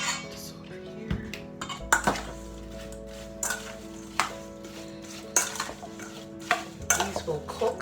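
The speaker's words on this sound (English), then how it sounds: "Just going to mix these all up." A spoon stirs apple slices for a rustic French apple tart filling in a bowl, producing repeated close clinks and scrapes against the bowl at an irregular rhythm over a low background hum.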